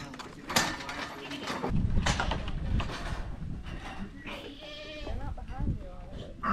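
Goats bleating at a farm where young does, bucks and yearlings are being bought, several calls rising through a busy mix of voices and handling noise, fairly close.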